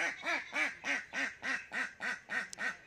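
A duck quacks in a steady run of about nine evenly spaced, loud, nasal calls, close by and with no talking.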